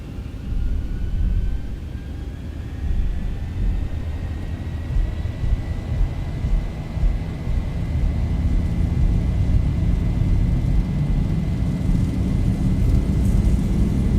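Boeing 737 jet engines spooling up to takeoff thrust in X-Plane 11, a steady loud low roar with a faint rising whine that builds and holds throughout the takeoff roll, no voices.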